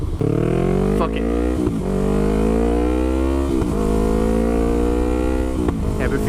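Yamaha YZF-R3 motorcycle fitted with a DG exhaust, ridden on the road and heard loud and close, its engine holding a steady rising tone with brief dips at gear shifts.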